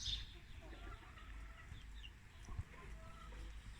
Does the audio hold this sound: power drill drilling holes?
no